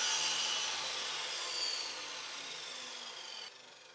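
Wood being hand-sawn to cut a homemade washer during log cabin ceiling work, a steady rasping stroke that holds fairly loud for most of the stretch, then drops quieter near the end.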